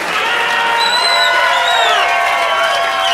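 A large crowd cheers and whoops continuously, with applause blended into a dense, loud roar and a few higher shouts rising above it.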